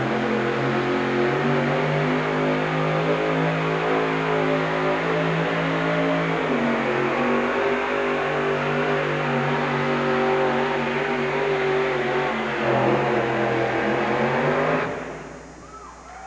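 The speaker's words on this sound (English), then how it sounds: "When you touch the throttle on a supercharged engine, the motor comes to life immediately." A supercharged 1987 monster truck engine at a truck-pulling event in Tucson, Arizona, roars loud and sustained with shifting pitch for about fifteen seconds, then drops off abruptly.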